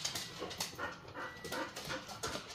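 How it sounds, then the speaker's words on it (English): A gardener's dog pants close by in quick rhythmic huffs, with soft whimpers mixed in over about three seconds, alone with no voices. "This is the gardener's dog."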